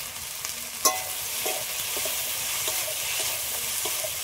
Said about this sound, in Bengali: সবগুলো নেড়ে চেড়ে ভালো করে একটু ভেজে নেব।